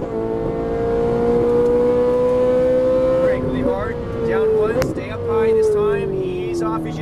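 A Ferrari 458 Italia's engine revs on a race track at Exotics Racing in Las Vegas, a sustained loud drone whose pitch climbs and falls through throttle changes, with an instructor talking over it throughout.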